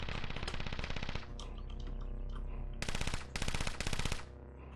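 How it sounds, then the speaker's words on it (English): A chain gun turret in the video game Caves of Qud fires loud, rapid bursts of automatic gunfire. A pause falls between the opening burst and two later bursts. "there's a chain gun turret there"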